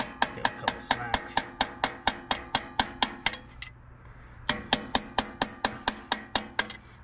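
Steel hammer smacking a punch on a part of an old abandoned bulldozer, a fast steady run of sharp metallic blows, a pause of about a second, then another even burst of strikes, close and loud with no talk.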